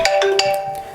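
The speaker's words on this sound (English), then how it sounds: "I can't answer the phone right now" Phone ringtone in a makeup session, a short melodic electronic chime with a few quick repeated tones, loud and close, with no talking.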